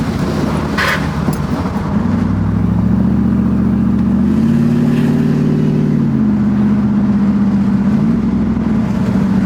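A Chevy S10 truck fitted with an LS engine drives along under steady, fairly loud engine drone, its pitch rising and shifting as it pulls and changes gear, with no talk over it.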